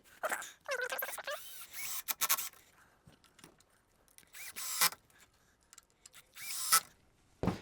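Screws are driven into a wooden guide for a handmade hammer handle. Short whirring bursts from a driver come up close, separated by quiet gaps with small clicks and scrapes.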